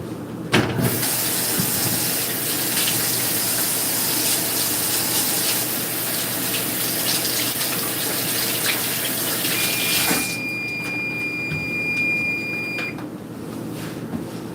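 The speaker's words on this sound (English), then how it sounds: "I'm gonna wash my hands real quick." Steady rushing stream from a kitchen tap as hands are washed, running continuously and fairly loud for most of the stretch, then cutting off near the end, leaving faint thin high tones in a quiet room.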